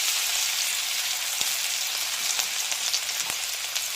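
Crushed ginger and garlic sizzle steadily in hot oil in a pan, a dense, even frying hiss with a couple of soft pops, close and alone with no talk.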